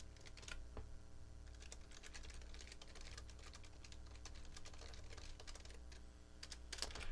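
Steady typing on a computer keyboard, keys clicking in a continuous, fairly quiet patter of irregular taps over a low room hum, with no talk.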